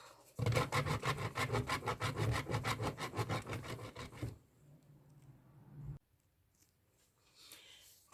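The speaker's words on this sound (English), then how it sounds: "Been able to grate this amount as the bar soap is very hard" A very hard bar of laundry soap is grated in fast rhythmic scraping strokes for about four seconds, close and fairly loud, then stops, leaving faint rustling.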